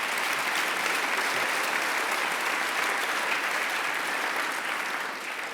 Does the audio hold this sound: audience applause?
yes